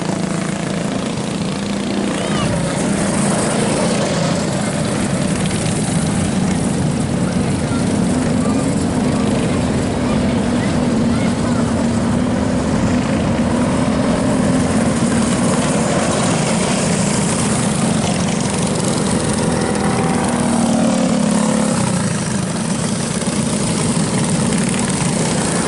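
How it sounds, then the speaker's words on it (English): A vehicle drives across an open field, its engine giving a steady, loud, continuous drone throughout with little change in pitch or level. "Just driving across the field."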